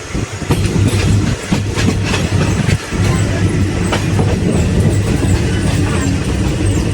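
Thai express train number 167 rolling along the rails, heard from on board as a loud, steady rumble with continuous wheel noise and faint clickety-clack throughout.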